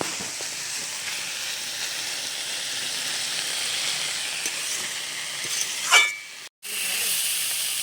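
Potato, pointed gourd and kundru fry in a pan without added water, producing a soft, continuous hissing sizzle that swells briefly near the end, then cuts out for a moment before resuming.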